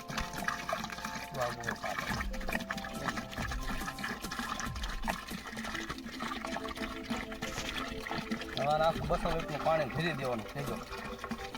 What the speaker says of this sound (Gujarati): હવે આ ડ્રમ બસો લીટર પાણી એની અંદર એડ કરી અને આ ભરી દેવાનું